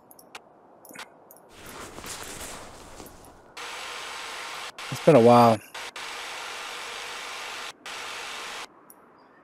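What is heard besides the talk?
drilling a hole through ice in the video game Ultimate Fishing Simulator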